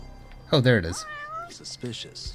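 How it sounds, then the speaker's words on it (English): A single loud, wavering cat meow sounds in the video game Judgment, close and prominent, followed by someone talking over faint background game sounds. "I definitely hear a cat."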